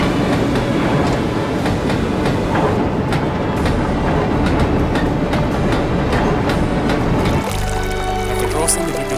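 Steam train running on rails in a Thomas and Friends story, a continuous rattling clickety-clack of wheels and wagons that shifts to a lower rumble near the end, with a voice narrating over it.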